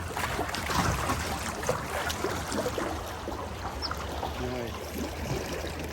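Paddle strokes dipping into open water beside an eco-friendly Melker Rodloga boat, a small-bladed paddle, heard as continuous splashing and trickling with rhythmic stroke swishes over light wind, fairly close, no talking.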